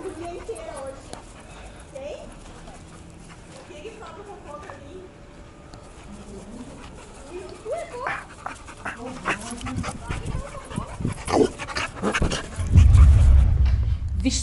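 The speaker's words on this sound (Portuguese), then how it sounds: "Meu pai tem dois cachorrões." Dogs panting and snuffling close by while people talk, with a burst of louder rustling and handling near the end.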